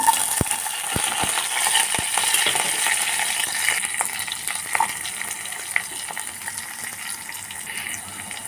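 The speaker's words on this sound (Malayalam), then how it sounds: "ഇനി ഇതിലേക്ക് ഞാൻ ചെറിയ ഉള്ളിയും കറിവേപ്പിലയാണ് ഇട്ട് ഇട്ട് കൊടുക്കുന്നത്" Shallots and curry leaves fry in coconut oil with a steady, close sizzle and crackle, joined by a few sharp early clicks and light stirring, with no talking.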